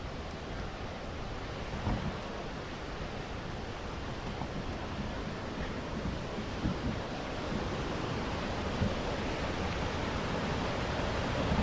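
Puna Ella waterfall flowing: a dense, constant roar of rushing water, loud and close, holding steady from start to finish with no voices.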